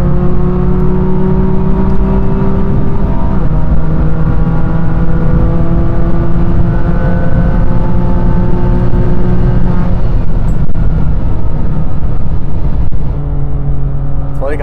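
A 700 PS Manhart-tuned BMW M2 Competition pulls hard in evening traffic, loud droning engine tone rising steadily in pitch through long gear pulls with a brief shift dip, heard from inside close up.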